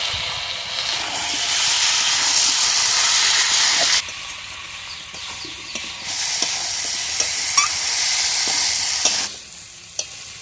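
Potatoes go into a hot pan where chicken is cooking with meat masala, giving loud continuous sizzling and frying hiss with a few clinks of stirring; the sizzle drops briefly and then surges again.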